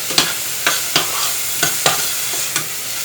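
Seasoning and basil flakes are stirred into a mixture for a chicken panini, giving six or seven sharp scraping strokes at a steady beat over a soft background hiss, close and loud.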